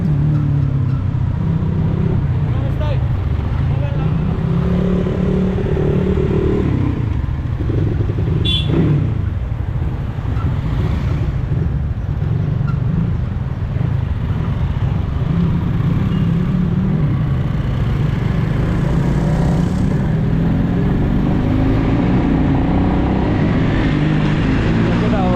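Motorcycles race on the Sailung ride in Nepal, a KTM Duke against a Crossfire, engines droning loud and steady for the whole stretch with rising revs, while people talk now and then over the noise.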